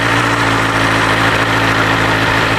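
A BMW S 1000 R motorcycle fitted with an Akrapovic Evolution exhaust idles steadily, a close, even, low rumble with a constant throb and no revving throughout.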